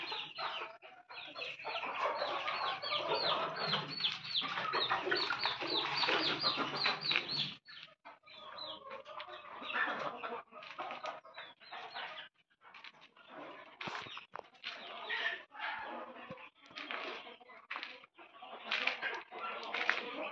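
Country chickens and two-month-old chicks cluck and peep in a dense, busy chorus, loud and close at first, then thinning into scattered calls.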